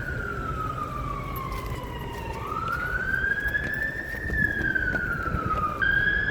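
An emergency siren wails across London near Holland Park, its pitch sweeping slowly down, then up, then down again over a dense, steady wash of city traffic and ambience.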